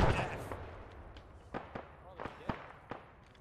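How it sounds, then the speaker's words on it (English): Grenade launcher fire in the military shooter Arma 3: a loud burst at the start, then several sharp, fairly distant cracks and thumps spaced roughly every half second amid low battlefield rumble. "Can they stop shooting fucking grenades?"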